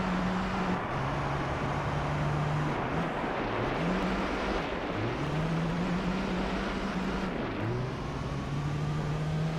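A first-generation Ford Focus RS engine in the racing game Gran Turismo Concept hums at a steady drone, its pitch rising and dipping with gear shifts and throttle changes, continuous and fairly loud with no talk.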